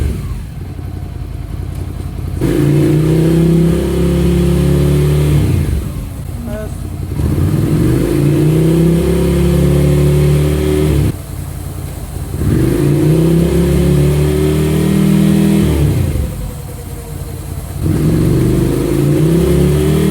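A Ducati Scrambler 800 motorcycle engine revs up in second gear, rising and falling in four repeated strong pulls with short dips between, loud and close.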